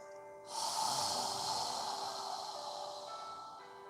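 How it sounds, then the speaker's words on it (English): A long, soft, airy exhale during yoga breathing, a single steady breath released through the nose, close and quiet with nothing else around it. "allow all of the air to escape on the exhale"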